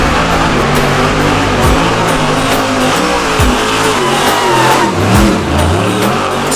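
A drift car's engine at a motorsport festival revs hard and continuously, with the pitch rising and falling through repeated throttle blips and a hint of tire squeal. It is loud and close, with no voices.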